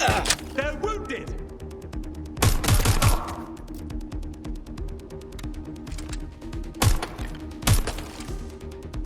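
Suspects firing guns in Watch Dogs Legion: a few loud bursts of rapid gunfire break out at intervals over a humming ambient game background, with voices speaking at moments.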